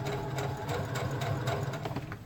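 A sewing machine set to a stitch length of 3 runs steadily, stitching fabric through tissue paper with a fast, even mechanical chatter that continues alone for the whole stretch.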